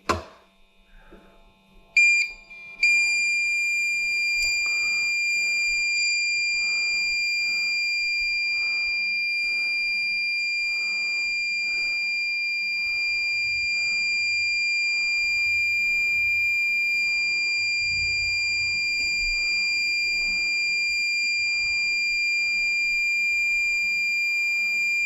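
Steady high electronic tone from a Magnespot XR1000 leak locator, beginning after a few clicks and holding continuously, with faint handling noises underneath.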